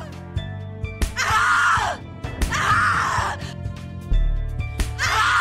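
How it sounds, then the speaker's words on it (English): A character in the horror video game The Cat Lady screams in three long, loud, strained bursts with brief breaks between them, over a low, droning background. "Scream louder, little bitch! Scream your lungs out!"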